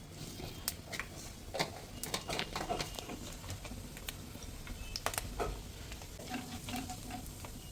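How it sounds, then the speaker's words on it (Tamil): Cumin seeds sizzle and crackle in hot butter for tempering a palak paneer curry, a steady frying hiss with scattered sharp pops and some stirring clicks, close and moderately loud throughout. "1 டீஸ்பூன் ஜீரகம் போட்டுங்க தாளிக்கிறதுக்கு."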